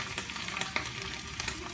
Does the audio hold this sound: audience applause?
no